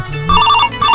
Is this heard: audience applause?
no